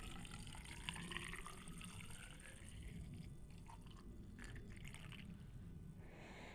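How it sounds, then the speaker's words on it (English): Washer fluid pours steadily into a Tesla Model X windshield washer reservoir, a quiet continuous trickle and gurgle with a slight rising fill sound. "You could use a funnel or you can just carefully pour it in."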